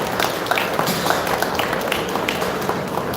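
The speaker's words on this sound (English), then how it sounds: "Y'all give him a round of applause." Audience applause at a custom knife show, a steady wash of clapping through the whole stretch, dense and fairly close with no voice on top.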